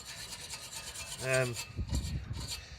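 Scraping away remains of scrap brake pads on a 1991 Rover 216 SLi, a short rough rasping stroke up close followed by a few lighter scuffs.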